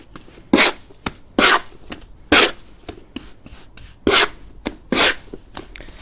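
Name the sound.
mixing brick mortar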